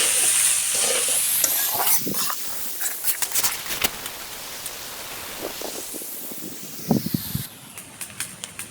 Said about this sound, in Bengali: হালকাভাবে ভেজে নেব।